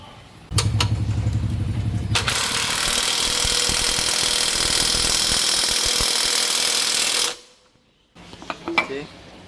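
Power tool driving screws with washers into the engine mount of a Yamaha Y110SS motorcycle under restoration: a loud continuous whirring drive with ratcheting texture running about seven seconds, then stopping abruptly, followed by brief metallic clicks.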